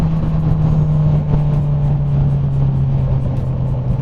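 A motorcycle fitted with a booster plug coasts on engine braking with the throttle closed, giving a loud, steady low gurgling hum that sinks slightly in pitch throughout.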